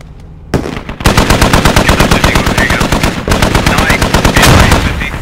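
Machine gun fire in the video game Squad, long rapid sustained bursts with an even fast rhythm, very loud and close, running almost continuously with only a brief gap.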